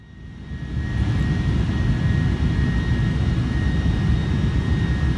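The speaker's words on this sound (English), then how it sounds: "Look at how tiny this runway is." Airliner landing in Microsoft Flight Simulator, a loud, steady jet engine roar that swells in over the first second and then holds constant with a faint high whine, with no talking.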